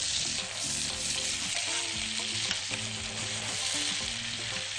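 Garlic in olive oil stirred while frying, a dense steady sizzle with faint scraping motions throughout, close and unbroken.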